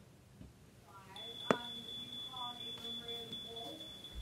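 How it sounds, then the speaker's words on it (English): A high, steady electronic alarm tone sounds with short pulsed beeps, faint against voices talking nearby and a sharp knock. "you have an active fire alarm."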